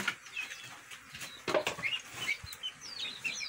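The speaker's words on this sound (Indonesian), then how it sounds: "Ini ayam yang usianya sudah 1 bulan setengah ya" Young free-range village chickens about six weeks old in a grow-out coop, with scattered soft chirps and clucks over a low background rustle, no voices.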